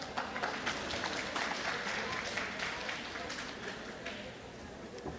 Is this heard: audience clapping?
yes